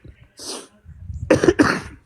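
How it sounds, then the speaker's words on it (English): A man coughs several times nearby, one harsh cough followed by a quick cluster of rough, throaty coughs. "He's coughing like a fucking 2-year-old"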